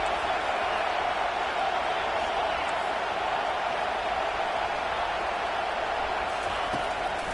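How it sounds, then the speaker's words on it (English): A stadium crowd in a Madden football video game roars in a constant, loud, even wall of noise that barely shifts in level throughout. "This crowd trying to make life miserable for this offense."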